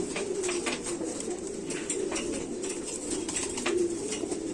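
A pure Makhele pigeon, one of a breeding pair, coos in low repeated rolling calls close by, with soft overlapping cooing from other birds around it and no talk over it.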